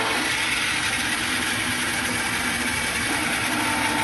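A water softener control valve motor drives the unit through its regeneration cycles beside the brine tank, a steady loud mechanical hum and whir holding constant throughout with no speech.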